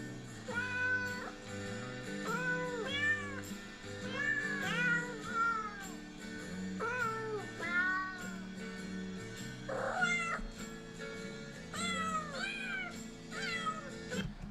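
Several cats meow and caterwaul in long rising and falling wails, one cry after another for about fifteen seconds, close and fairly loud over a low steady background hum.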